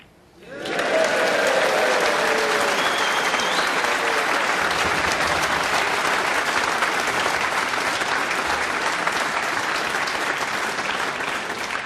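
A snooker crowd at the Champion of Champions event bursts into loud, sustained applause and cheering that starts abruptly and holds steady to the end, with a few voices faintly audible in the mix.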